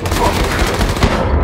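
Rapid gunfire bursts in Wolfenstein 2: The New Colossus, loud and continuous with dense overlapping shots throughout, a voice faintly underneath.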